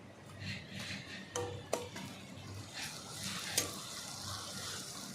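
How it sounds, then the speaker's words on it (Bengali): Onions browning in a pan with green chili and ginger paste give a soft, low sizzle, punctuated by a few sharp clinks of a spoon against the pan. "একটু লাল করে ভেজে নেবো পেঁয়াজটা"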